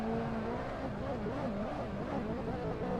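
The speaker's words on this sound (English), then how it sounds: "That was interesting what the revs were doing there." A car engine in Assetto Corsa drones steadily with its pitch rising and falling as the revs change while drifting, a synthetic-sounding motor hum with faint talk in the background.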